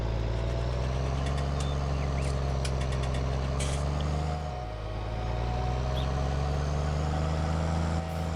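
A Fendt Trisix tractor in Farming Simulator 19 drives with a steady, droning engine hum that briefly dips in pitch as it slows while steering, then settles back into its constant low rumble.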